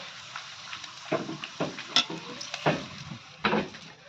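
Papad frying in a pan for a rainy-day khichuri meal: a soft continuous sizzle broken by several sharp scraping and clattering stirs against the pan, close up.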